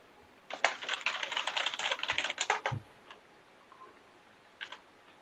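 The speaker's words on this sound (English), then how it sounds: "Were you typing in Jones" Fingers type a quick burst of clicking keystrokes on a computer keyboard for about two seconds, then a few scattered taps follow in a quiet room.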